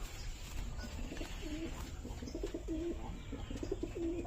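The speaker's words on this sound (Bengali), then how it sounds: "এই যে এই পায়রাটা দেখো, এটাও গিরিবাজ লাইনের পায়রা।" A Giribaj pigeon coos softly in repeated low warbling phrases, fairly close, over faint background noise.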